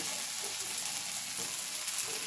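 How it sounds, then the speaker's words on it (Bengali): Potatoes and tomatoes for spicy suji sizzle steadily in a pan, a soft continuous frying hiss with a few faint stirring touches and no talk. "আলু আর টমেটো একসঙ্গে খানিকক্ষণ নাড়াচাড়া করে নিতে হবে"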